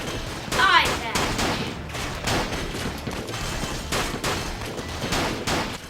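Rapid gunshots from the WiiWare shooting game Big Town Shootout, a busy volley of sharp cracks repeating over several seconds, with a voice briefly heard among them.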